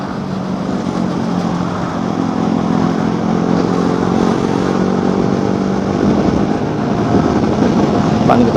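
Steady, continuous motorcycle engine drone with low-frequency vibration while riding along an empty morning road between Bekasi and Jakarta, droning without letup and close to the rider, with no speech over it.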